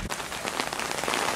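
Rain patters steadily on a surface around a barn under construction, making a brief, even wash of drops with no voices.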